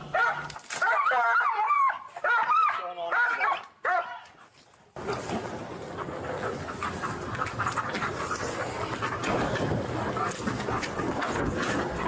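A police tracking dog barks, yips and whimpers excitedly up close while hunting a hidden suspect, then gives way to a steady roar of wind or rustling outdoor noise; no talking.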